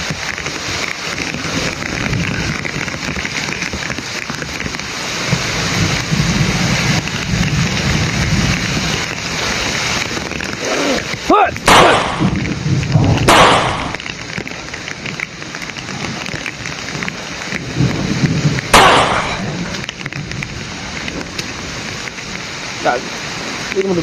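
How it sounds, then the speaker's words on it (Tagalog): Heavy rain pours down steadily throughout, with several sharp, loud thunder cracks breaking through the roar. "sobrang lakas pa ng ulan"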